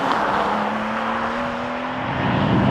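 A Porsche 911 Carrera T with a manual gearbox accelerating as the turbo comes in, a steady rising engine drone heard from inside, loud and continuous with no talk.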